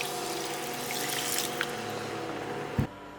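Water poured into a pot of palm sugar over medium heat, a steady close trickle and splash running throughout with a soft clunk near the end.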